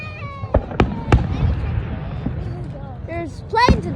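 Fourth of July fireworks explode in a series of sharp, separate bangs, some louder and closer than others, with people talking and exclaiming over them.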